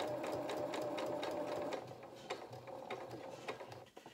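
A sewing machine stitches fabric for a stuffed otter's head, running at a slow steady speed with rapid rhythmic mechanical clatter, close and fairly quiet, easing off slightly in the second half.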